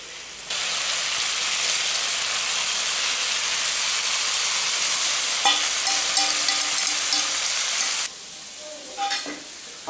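Duck blood and sour water mixture poured into a hot pan for Guangxi home-style blood duck, giving a steady loud sizzle and hiss with a few clinks of stirring utensils near the end.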